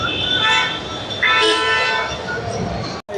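Train at Bhopal railway station, with steady rumbling of rail cars and a horn-like toot sounding close and loud throughout, a sharp brief dropout near the end.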